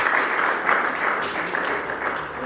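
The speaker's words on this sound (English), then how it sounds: "Can we clap hands for Mr." An audience at a school talent competition final claps hands in a sustained, dense burst of applause filling the room.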